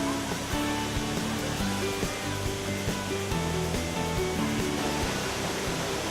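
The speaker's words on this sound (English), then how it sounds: "The waterfalls boasts of a 140-meter curtain of cascading water from mountain springs 60 meters high" A 140-metre-wide curtain of water cascading from mountain springs 60 metres high, heard as a dense, continuous rushing roar with music playing underneath.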